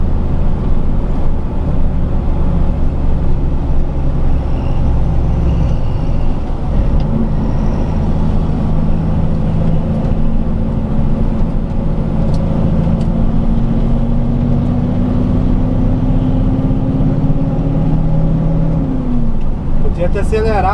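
A car travels along the Estrada do Bugre road, its engine droning steadily and climbing in pitch as it accelerates through the middle of the stretch, close and loud over constant road rumble.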